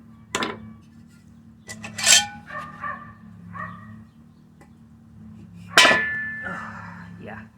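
Metal parts clink and clatter in a few sharp, separate knocks and scrapes as a cylinder head is taken off a big-bore engine, close by, with quiet gaps and a faint hum between the hits.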